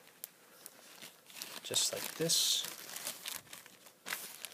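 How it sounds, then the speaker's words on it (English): Folded paper slid into a plastic bag gives off a short burst of crinkling and rustling, loud for about a second, with a voice talking before and after. "I'm just going to fold this in half and slide it into our plastic bag"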